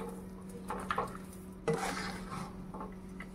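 A spoon stirs a sesame, jaggery and ground peanut mixture in a pan over low heat, with soft scraping and occasional light clinks against the pan under a faint steady hum, no voices.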